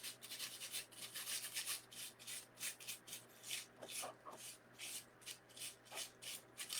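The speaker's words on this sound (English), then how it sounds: "You're just rubbing your gold leaf down onto your glue." Gold leaf is burnished by rubbing it down onto glue, a faint, rhythmic dry scrubbing with repeated close strokes at a steady pace and no talk.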